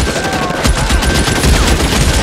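Sustained rapid gunfire from a shootout in the video game L.A. Noire, dense overlapping bursts of shots, loud and continuous throughout.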